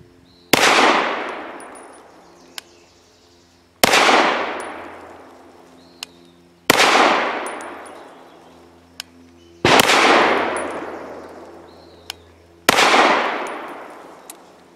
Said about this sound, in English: Now for 5 shots from 7 yards using Nosler 115 grain match.